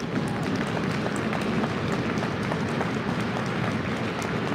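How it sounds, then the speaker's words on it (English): A crowd at a junior varsity high school hockey game applauds an injured player, making a loud, continuous roar of clapping and cheering that fills the arena with no clear pauses. "The crowd gives Braun a roar of applause"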